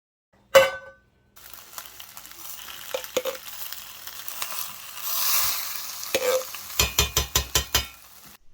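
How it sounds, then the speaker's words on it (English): Chili and refried beans heating in a pan, sizzling steadily while a spoon scrapes and stirs, ending in a run of sharp rhythmic knocks against the pan. "heat up some chili in a pan, followed by a can of refried beans"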